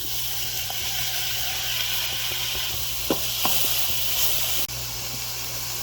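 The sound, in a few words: tomatoes added to a hot pot with onions and celery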